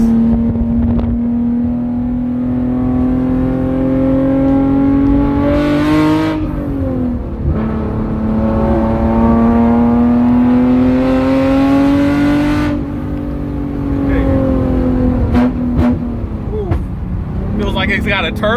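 A Hyundai Genesis Coupe's 3.8 performance V6 runs close and loud, holding a steady idle drone that swells with a couple of throttle blips and revs; a voice speaks over it.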